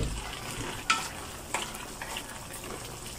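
Pork liver and spring onion leaves stir-fry in a pan, giving a low, steady sizzle with a few faint scrapes and clinks as the food is tossed.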